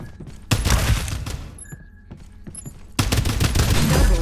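Dense bursts of automatic gunfire in the battle-royale shooter game Farlight 84, loud and close, with a brief lull of scattered shots before a heavy volley resumes.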